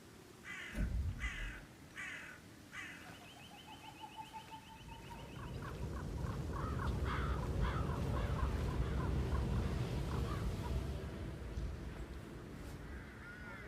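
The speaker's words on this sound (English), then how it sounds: "Get rid of those stupid birds." Crows caw repeatedly in short, harsh bursts in the video game Hitman 3, over a rising, steady rumble, with a higher squawking call threading through the middle.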